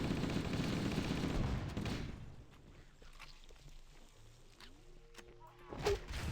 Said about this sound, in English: Oh god, explosions.